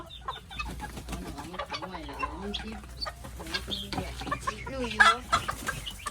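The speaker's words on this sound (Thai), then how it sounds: "ไก่แจ้ ดุจริง ๆ" Bantam chickens, black and white birds kept apart, clucking and squawking in short irregular bursts close by, with a person talking intermittently underneath.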